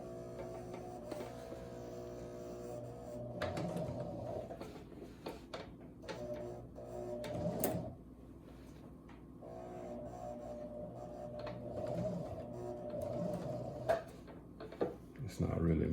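A sewing machine back stitches while a new zipper goes into an old garment, a steady motor hum with a rhythmic needle clatter that slows and restarts, fairly quiet, with occasional handling knocks and a voice talking at times.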